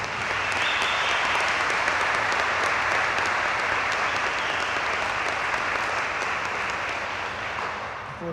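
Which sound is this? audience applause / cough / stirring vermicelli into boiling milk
audience applause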